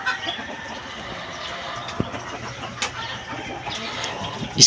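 Pullet chickens about four months old clucking softly nearby alongside a rooster, scattered short calls over a low background murmur of a farmyard.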